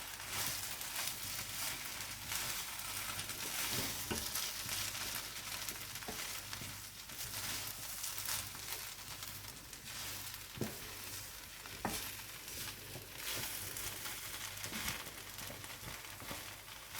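A pot of Nigerian jollof rice sauce is stirred over the heat, with steady broadband sizzling and frying throughout and soft scraping strokes from the spoon recurring at intervals, fairly close and even in level, with no talking.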